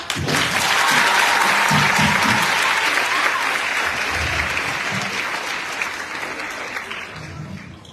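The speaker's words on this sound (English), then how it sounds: "Let's clap." A large audience at an adolescent event attended by Sierra Leone's First Lady bursts into sustained, loud applause that slowly tapers off, with faint crowd voices underneath.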